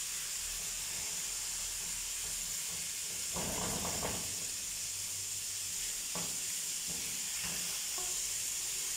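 Sausage frying in a pan alongside liver, Egyptian style, makes a steady close sizzle and hiss, broken by a few louder bursts of crackle and stirring scrapes.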